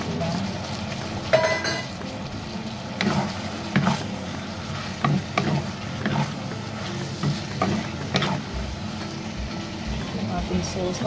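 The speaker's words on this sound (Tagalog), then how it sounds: "Haluin natin ng 1 minuto guys, okay na." Celery, chicken and cashew nuts stir-fried in a pan with dark soy sauce and a sauce, giving a steady sizzle with scraping and occasional clinks of the utensil, while a voice talks over it.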